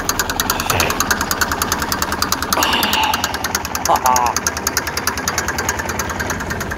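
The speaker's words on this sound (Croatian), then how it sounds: "Traktor radi na leru." The engine of an IMT 533 tractor idles steadily outdoors, a loud, rough, continuous diesel chug with a rapid even pulse throughout.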